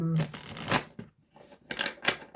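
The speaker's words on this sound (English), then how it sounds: "Final shuffle." Tarot cards riffled and shuffled by hand in a quick burst, a short flurry of crisp papery flutters followed by a brief pause and a second softer round of shuffling, close and fairly quiet.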